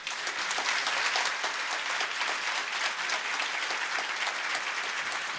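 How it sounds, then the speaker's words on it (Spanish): An audience at a theological debate gives sustained, dense applause, a steady roar of many clapping hands that holds evenly from start to finish. "ahora pido un fuerte aplauso para ellos"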